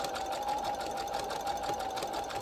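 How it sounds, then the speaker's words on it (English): A sewing machine back stitches along a fabric dog collar cover, a steady close whirring drone with a constant hum throughout, alone without talk. "So you're just going to continue to stitch until you get all the way down to the end."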